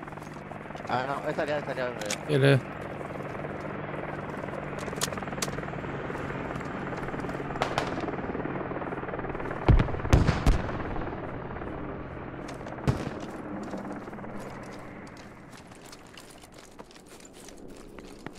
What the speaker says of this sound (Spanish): Helicóptero enemigo arriba